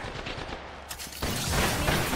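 Gunfire in Apex Legends: scattered shots early, then a loud sustained burst of rapid automatic fire from about the midpoint, close and dense.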